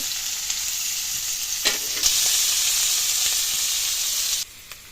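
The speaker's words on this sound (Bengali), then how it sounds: "দেখো তেলে অলরেডি জিরে ফোড়ন দিয়ে দিয়েছে, এবার ছাড়বে হলো পেঁয়াজগুলো।" Onions hit hot oil already tempered with cumin seeds in a pan over a wood-fired stove, giving a loud, continuous sizzle and crackle with brief stirring scrapes before the hiss drops sharply near the end.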